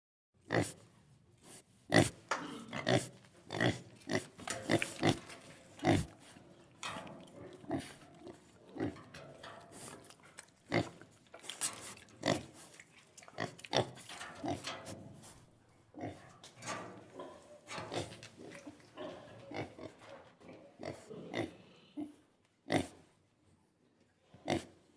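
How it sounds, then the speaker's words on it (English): A pig grunts and oinks up close, with dense, irregular bursts of short snorting grunts continuing throughout, heard alone without voices. "Pig."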